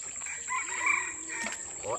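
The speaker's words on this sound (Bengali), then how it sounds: "সেই মোরগের ডাক কিন্তু বন্ধুদেরকে সরাসরি শোনালাম" A wild jungle fowl crows once in a drawn-out call at moderate distance in the Sundarbans, with a steady high insect-like whine and faint birdsong behind it.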